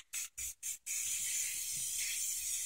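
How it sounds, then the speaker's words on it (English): An aerosol spray paint can hisses in four quick bursts, then holds one long, steady spray, close and bright, with no voices. "It's spray paint."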